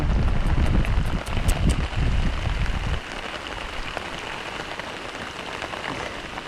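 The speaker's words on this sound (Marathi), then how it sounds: "हो बघा पाऊस इलो" Loud, close downpour with wind buffeting the microphone, rumbling strongly at first, then easing to a steadier hiss of rain on surfaces.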